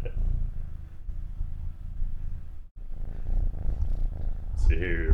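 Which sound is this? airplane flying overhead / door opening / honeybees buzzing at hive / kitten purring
kitten purring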